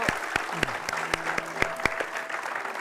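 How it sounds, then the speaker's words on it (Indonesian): Studio audience applause at an Indonesian TV variety show rings out as the contestant's mother is welcomed, with loud sharp claps close by over a crowd wash and faint background voices. "kita berikan tepuk tangan ya, Ibu."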